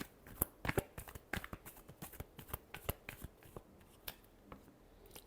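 Tarot cards are shuffled by hand in a quick run of crisp riffling snaps and soft slaps, close and fairly quiet, with no voices over them.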